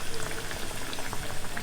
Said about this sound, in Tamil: ஸோ இப்போ எண்ணெய் நல்லா கொதிச்சிடுச்சு